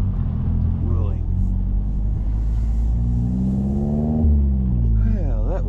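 A Mazda MX-5 engine rumbles and revs on a summer mountain road on the west side of Pikes Peak, its pitch climbing and dropping through a curve, loud and near with a voice over it.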